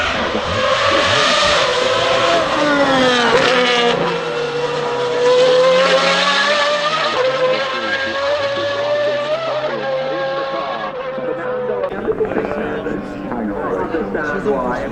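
A V12 race car engine accelerates at the Goodwood Festival of Speed 2024, a loud, continuous roar whose pitch climbs and shifts through the gears over about fourteen seconds, with a commentator talking over it.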